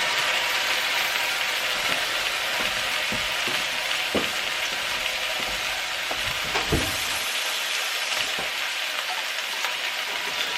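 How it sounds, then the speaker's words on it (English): Ground beef with its juices browns in a pan for chili, giving a continuous close sizzle with occasional scrapes and taps of stirring, no one talking. "So I'm just gonna give this ground beef a slight brown just to cook it through a little bit."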